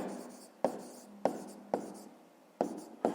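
A pen writes on paper at a desk during a fifth-grade maths exercise, giving quiet scratching strokes broken by sharp taps, about six in just over three seconds, close and soft, with no talking.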